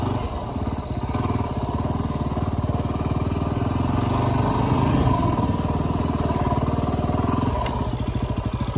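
A motorcycle rides a skills-exam practice course over humps and around a figure 8, its engine a continuous close putter that rises and falls with the throttle.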